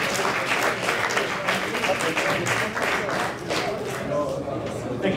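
Crowd applause at an Hydro-Québec civil action challenge event, dense and steady clapping from a sizable audience filling the full stretch, loud and sustained with a slight dip midway.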